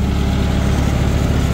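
John Deere 5210 tractor engine running loud and close, a constant heavy low-pitched diesel rumble with a steady throb and no voices.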